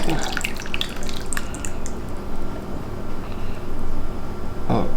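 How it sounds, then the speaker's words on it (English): Homemade hand sanitizer poured through a funnel into a soap bottle, a continuous close trickling and gurgling of liquid that runs throughout with small surges. "I'm gonna fill this bottle with our homemade sanitizer"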